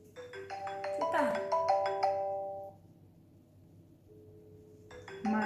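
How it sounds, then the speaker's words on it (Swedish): A telephone ringtone plays a bright chiming melody of several quick tones, fades out, then starts again near the end, with voices nearby. "Telefonen ringer."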